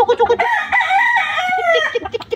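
A rooster crows loudly and close, one long drawn-out call framed by short clucking notes.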